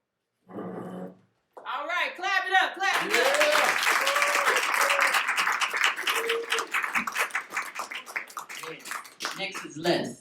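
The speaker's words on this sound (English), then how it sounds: "All right, clap it up, clap it up." A comedy night audience at a veterans' theatre show claps steadily for several seconds while voices call out and talk over it, with the clapping thinning toward the end.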